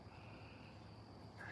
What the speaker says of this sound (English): he loves hearing the crickets in the lawn